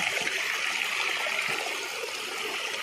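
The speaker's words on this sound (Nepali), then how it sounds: "पानी त आयो यहाँ पनि अब ठुलो आयो पानी" Water from a spring source flows steadily at a village water intake, a soft continuous hissing trickle with gentle splashing, fairly faint and unaccompanied by voices.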